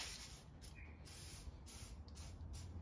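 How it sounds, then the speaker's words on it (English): A quiet, steady aerosol spray of WD-40 lubricant onto cylinder head parts of a Holden grey engine hisses, with a few short bursts of higher hiss at intervals. "I will spray a bit of WD-40 on those"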